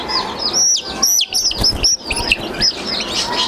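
High, rapid chirps from a young chicken chick repeat in quick bursts, fairly close and clear, with some faint background noise.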